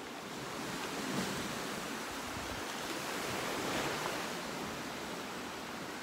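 Ocean waves break steadily on the shore at Klima village on Milos, Greece, a dense, continuous roar of surf with wind, no voices, and a gentle swell around the midpoint.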